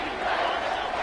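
A loud, roaring football stadium crowd at an Oklahoma versus Colorado game cheers on third down, a steady wall of massed voices for a brief moment.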